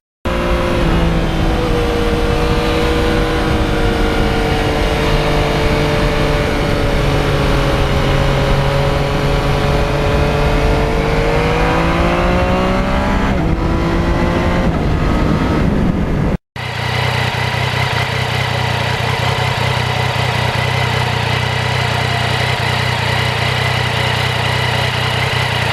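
A 2020 Yamaha MT-09 motorcycle under way on a cold mountain ride drones loudly, its engine note sliding up and down through gear and throttle changes before a brief cut to a steadier, unchanging hum.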